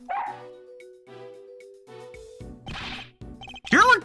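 A dog in the Ace Attorney Investigations 2 video game gives several sharp, loud barks with short pauses between them, ending in a burst of high yips.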